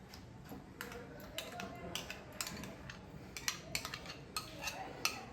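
Whipped cream whisked in a bowl for mango ice cream, rhythmic light clinks and taps of the whisk against the bowl, soft and close, with faint speech in the background.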